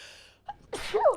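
A single sharp sneeze, preceded by a quick inhaled gasp, close and clear in an otherwise quiet room.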